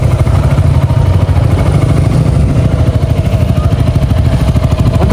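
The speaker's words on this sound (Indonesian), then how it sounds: "Untuk suara knalpotnya, mantap, halus banget." A 2023 Yamaha XMAX scooter idles through its exhaust close by, giving a loud, smooth, steady low rumble with a fast even pulse throughout.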